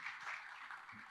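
Faint audience applause in a hall at a memorial evening as a guest is invited onto the stage, brief continuous clapping from a crowd, quiet and distant.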